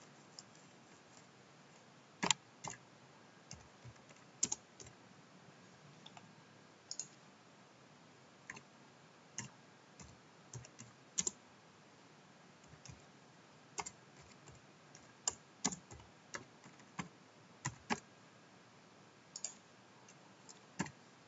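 Keys clicking on a computer keyboard while a forum message is typed, quiet irregular taps and bursts with pauses between, close and alone.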